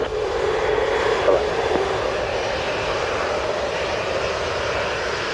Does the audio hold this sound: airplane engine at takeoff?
yes